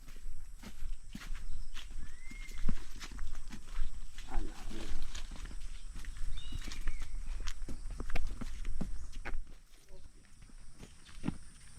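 A horse walks with steady clip-clopping hooves on a path close by, under ongoing talk in Tagalog and some outdoor background noise.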